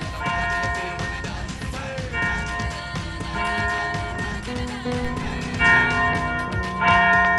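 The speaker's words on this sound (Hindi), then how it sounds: "फिर चर्च की घंटी कौन बजा रहा है?" A church bell rings repeatedly with rich, overlapping tones that sustain and swell, loud and continuous, in a Hindi-dubbed cartoon scene.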